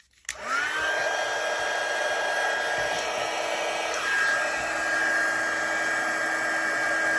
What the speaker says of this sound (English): and get out our heat tool.